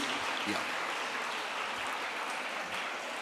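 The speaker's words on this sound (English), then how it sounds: "Can we give him a big applause?" Applause from an audience at a school annual day event, a fairly faint, steady wash of clapping with some low-pitched thuds and murmur mixed in.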